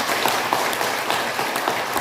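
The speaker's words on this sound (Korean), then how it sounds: "우리 박수 한번 하시겠습니다." A church congregation at a Sunday service applauds, a dense, steady patter of many hands clapping together, loud and even, with no voices over it for about two seconds.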